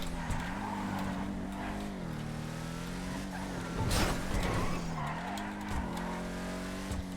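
Declasse Tulip muscle car in GTA Online driving hard with a loud, steady engine drone that rises and falls with gear changes, with tire skids and squeals under it and a brief louder burst partway through.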